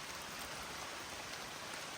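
Soft, steady patter of light rain easing off, a faint continuous hiss of drops with no voices over it.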